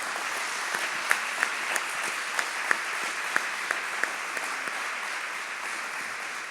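Sustained applause from a gathered crowd celebrating the 25th anniversary of Radio Maria France, a dense, steady clapping texture with a few sharper individual claps standing out, continuing without pause and with no talk.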